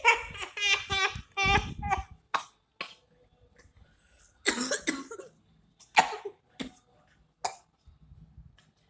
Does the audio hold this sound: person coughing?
yes